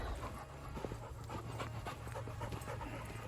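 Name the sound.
dogs panting before being fed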